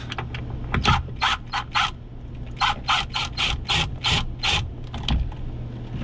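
A hand ratchet clicks in quick repeated bursts while taking off an RV fresh water pump, the close, crisp ratcheting strokes grouped in two runs separated by a brief pause.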